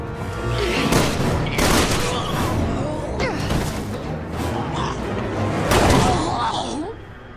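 Video game gunfire crackles in dense, loud bursts of overlapping shots and booms throughout, with voices shouting over the battle.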